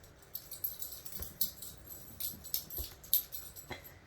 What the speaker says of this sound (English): The dog just ran in here.